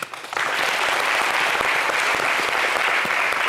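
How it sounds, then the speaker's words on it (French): Dense, loud applause from a large concert crowd in an 11,000-seat exhibition hall for an Ivorian rapper, a continuous roar of clapping that starts abruptly and holds steady throughout. "Ça s'applaudit, ça."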